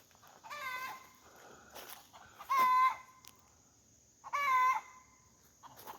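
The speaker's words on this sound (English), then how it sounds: "The chickens are really excited" Chickens cluck and squawk excitedly nearby, with a couple of loud rooster-like crows standing out among the agitated calls.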